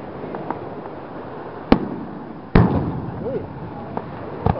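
Fireworks burst over Nags Head on the Outer Banks, three sharp booms spaced apart, the second heavy with a long rumbling tail, under a crowd murmur.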